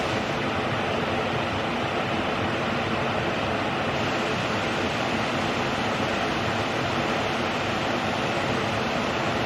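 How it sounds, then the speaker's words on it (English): A roadside waterfall beside the South Fork Flathead River in Montana roars as a steady, loud, broadband rush of falling water, constant and unbroken throughout with no voices. "Found this beautiful waterfall on the side of the road."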